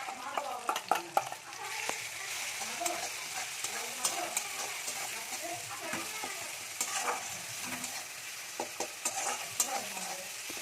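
Spice paste sizzles and fries in a hot pan while a utensil stirs and scrapes it, steady close crackle with frequent clinks of metal on pan, no talking.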